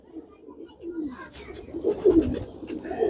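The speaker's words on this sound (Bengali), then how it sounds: "এইটাও একটি নর কবুতর" A male pigeon coos close up, low rolling calls rising and falling over about three seconds, with no talking.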